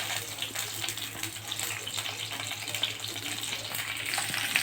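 Green chillies frying in hot coconut oil over a very low flame, giving a steady broadband sizzle that holds evenly throughout with no talk.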